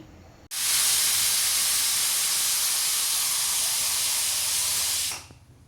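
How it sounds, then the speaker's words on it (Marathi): Pressure cooker cooking chana dal lets out one loud, sustained steam whistle that starts abruptly and hisses steadily for about five seconds before cutting off sharply. "तर आता कुकरचं एक शिट्या काढून घेणार आहे"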